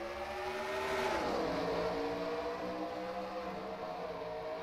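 Race cars, a field led by Dodges and Chevrolets, roar as they accelerate together at a green-flag start, engine notes rising and sweeping past in a loud continuous blare with no talk over it.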